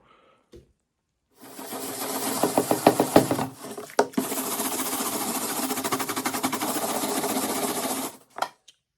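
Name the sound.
scraping adhesive with a sanding blade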